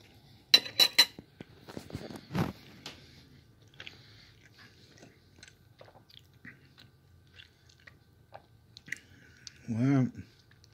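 A Great Value bacon, egg and cheese croissant is cut with cutlery and eaten: sharp clinks and scraping, then soft close chewing and munching, with a brief muffled murmur near the end.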